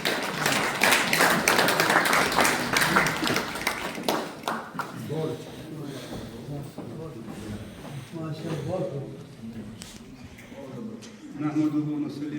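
Applause from an audience at a formal gathering for Pakistan's Consul General in Frankfurt, Germany: dense, loud clapping for about four seconds that thins out to scattered claps mixed with talking.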